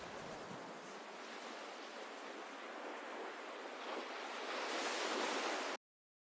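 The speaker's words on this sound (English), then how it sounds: "And these ocean waves." Ocean waves roll as an ambient sample in a techno track, a broad, steady surf wash that swells slightly louder toward the end before cutting off abruptly.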